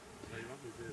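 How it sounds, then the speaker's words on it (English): Honey bees are shaken into a box at an apiary, giving a dense, close buzzing hum from the swarm with a soft rustle beneath, heard over the whole short moment. "he's now going to shake some bees in, spray it with sugar water"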